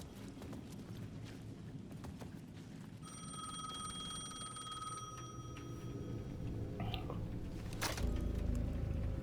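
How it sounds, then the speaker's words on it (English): A payphone in the video game Alan Wake 2 rings with a steady electronic trill, moderately loud, over a low rumbling ambience with occasional footsteps and a sharp burst near the end. "The payphone at the edge of the plaza was ringing again."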